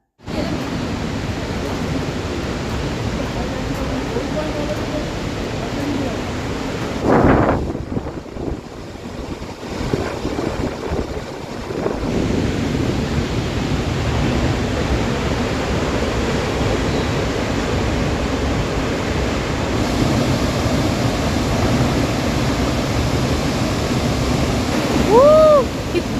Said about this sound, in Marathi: जवळजवळ एकशे एकोणतीस फूट उंचीचा असा हा धबधबा